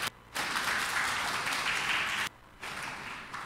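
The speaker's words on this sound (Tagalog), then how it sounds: "Palakpak nga muli para sa ating Panginoon." Church congregation applauding together, a steady dense wash of clapping that breaks off briefly and then resumes, moderately near and without voices.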